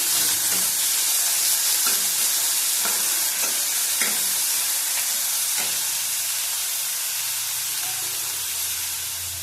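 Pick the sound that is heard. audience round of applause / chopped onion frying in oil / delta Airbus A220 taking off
chopped onion frying in oil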